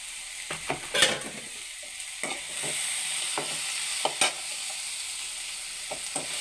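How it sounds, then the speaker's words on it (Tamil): Ingredients for aval upma, a flattened-rice dish, sauté in a hot pan with a little salt: a steady close sizzle broken by repeated sharp scrapes and clinks of a spatula stirring. "போட்டு நல்லா வதக்கிக்குவோம் அப்படியே கொஞ்சம் உப்பு போட்டுக்குவோம்"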